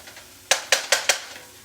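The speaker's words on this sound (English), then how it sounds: "our onions, they're in a hot skillet" Utensil clinks against a hot skillet where onions are cooking for a chicken pot pie, four quick, bright metallic taps close together, up close with no talking.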